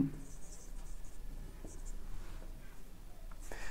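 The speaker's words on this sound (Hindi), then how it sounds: "मैं ये लिखता नहीं था लेकिन आज लिख रहा हूँ सिनोनिम" Marker or chalk writing on a board during a pharmacy chemistry lecture, soft scratchy strokes and faint taps close by in a quiet room, with no talking.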